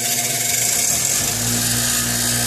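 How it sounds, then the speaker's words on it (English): Grinder fitted with a wire wheel spinning up to clean corroded battery cables, a loud steady whine that settles into a continuous running drone, close with no talk. "In my case, I have a grinder with a wire wheel, so we're just going to turn that guy on."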